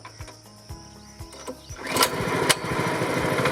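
Engine of a 4-foot-wide wheat crop cutting reaper running: a few sharp low thumps at first, then the engine picks up into a loud steady drone with rapid rhythmic pulsing, close by with no talk.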